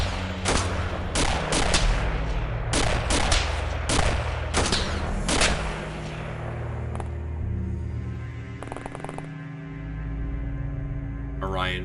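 Rapid bursts of gunfire as an XCOM soldier empties a magazine, several loud cracks in close succession over the first half, then a lingering hum and rumble.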